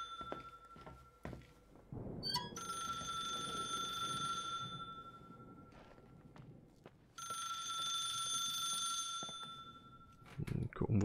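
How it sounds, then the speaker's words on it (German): A telephone rings twice in a first-person video game, each long ringing burst lasting several seconds with a pause between, while someone talks over it. "Oh, hier klingelt das Telefon."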